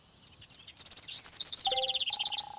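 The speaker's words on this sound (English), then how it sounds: "So the sound effect I was talking about is this. Those birds, every time you're outside, are super loud, and it's the same audio clip over and over again." Bird chirping sound effect from the video game Mega Man Legends, a bright, busy chorus of tweets repeating in a loop, with a couple of sustained whistle-like tones near the end, loud and close.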